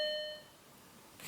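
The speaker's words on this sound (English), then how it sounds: "somebody's ringing my doorbell." A home doorbell gives a single short electronic chime that rings clearly and then fades out quickly, heard on its own in a quiet room.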